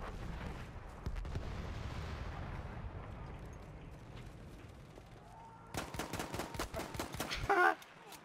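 Gunfire in a Battlefield PC game, with a burst of rapid, sharp shots close by near the end, following a stretch of low rumbling background noise.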